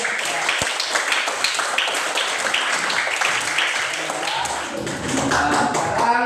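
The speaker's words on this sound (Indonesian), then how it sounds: "Ya, kita kasih tepuk tangan, Nak." A classroom of students claps for a group that has just presented, a dense burst of hand claps and taps heard close and all through, with some voices mixed in.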